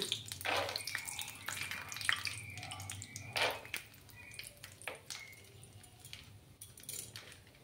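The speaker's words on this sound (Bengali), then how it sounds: "চিনেবাদামগুলোকে ভালো করে 3-4 মিনিট ধরে একটু লাল লাল করে ফ্রাই করে নেব।" Peanuts sizzle in hot oil over a lowered gas flame: a steady close crackle and hiss with scattered sharp pops, no voices.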